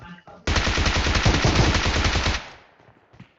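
Rapid automatic fire from a PP-19 Bizon submachine gun in PUBG Mobile, a loud continuous burst of about two seconds that cuts off sharply and leaves a fading echo, with brief shots at the start and end.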